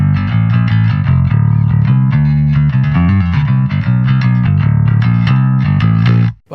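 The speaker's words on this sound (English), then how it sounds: "If I take out the horn, it sounds like this." Heavily distorted metal bass plays through a 10-inch bass speaker cabinet miked without the horn, a loud, dense, continuous riff with a thick growling low end that cuts off abruptly at the end.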